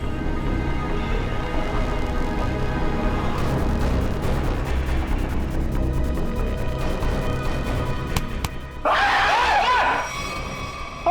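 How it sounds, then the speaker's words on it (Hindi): A man lets out a high, wavering scream late in a tense crime-drama scene, breaking through a dense, loud wash of rumbling and crashing noise that fills the whole stretch. "लड़की की तरह चीखता क्यों है?"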